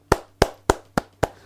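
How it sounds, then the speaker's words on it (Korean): Five sharp hand claps ring out alone at an even, quick pace, each crisp and close with a short decay. "맞는 말이죠. 박수."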